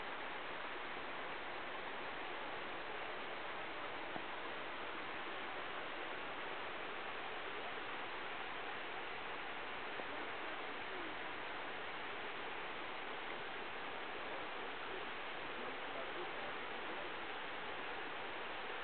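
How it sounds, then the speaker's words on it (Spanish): Steady rushing water roars without a break, a dense, even wash of noise from a tributary waterfall in a canyon near Ponta do Sol, Cape Verde, heard from a distance. "Un afluente, una cascada afluente por el lado derecho."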